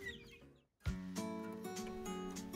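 Young chickens and guinea fowl cluck and chirp continuously in a pen after being carried back inside, a steady busy flock chatter close by with no talk.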